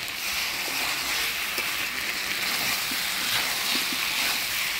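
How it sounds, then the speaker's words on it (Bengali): Chicken and potatoes fried and stirred together in a pan, producing a constant hissing sizzle with faint, scattered stirring clicks underneath. "আলু দিয়ে মাংসটা ভালো করে নাড়াচাড়া করে নিলাম।"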